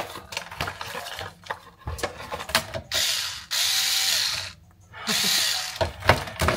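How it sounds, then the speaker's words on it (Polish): A mini cordless screwdriver whirring in short bursts, with ratcheting clicks and light handling clatter between runs, close by and with no talk. "Mini wkrętarka."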